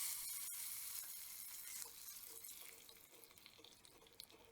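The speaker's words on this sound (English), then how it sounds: "heat oil in a pan and mustard seed and dry chilies and some curry leaves. Saute them well" Mustard seeds, dry chilies and curry leaves fry in hot oil in a pan for a tadka, giving a continuous faint sizzle with small crackles and pops that gradually settle; no speech.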